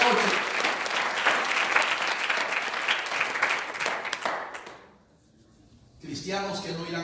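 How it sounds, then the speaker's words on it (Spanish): A church congregation claps loudly and steadily for several seconds, then the applause fades to near silence before a voice speaks in Spanish. "Denle fuertes aplausos a Cristo,"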